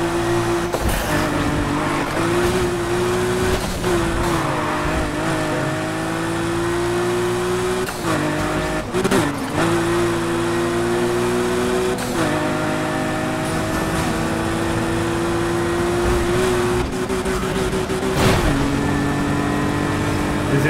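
Race cars roar through an in-game street race in Need for Speed Heat, engines whining and shifting pitch through gear changes, with occasional tire squeals, loud and continuous throughout.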